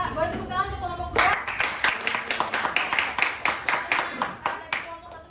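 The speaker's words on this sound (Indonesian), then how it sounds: "Boleh tepuk tangan untuk kelompok 2." A classroom of students claps for a presenting group, following a brief spoken line from the teacher, then a rhythmic run of close, sharp handclaps that continues steadily to the end.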